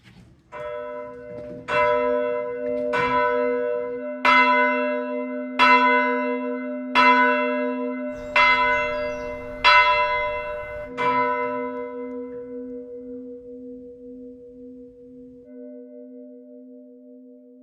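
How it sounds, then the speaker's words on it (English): A single deep church bell, nominal note of B plus 25 cents, strikes seven times at steady intervals, each stroke ringing out with a long humming decay that lingers after the last. "The bell sounds a nominal note of B plus 25 cents"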